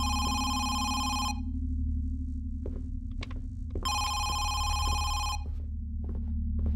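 A telephone bell rings loudly in two long bursts separated by a pause, close by and alone, with a steady low hum and a few clicks underneath.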